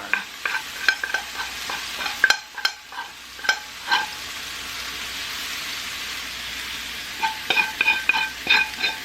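Flour being stirred into hot oil for homemade gravy makes a steady sizzle, with close scraping stir strokes in an irregular rhythm and no talking.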